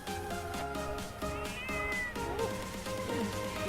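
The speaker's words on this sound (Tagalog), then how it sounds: "Ang pusa, oh. Ganda." A cat meows over steady background music, its calls rising and falling a few times, fairly clear but not loud.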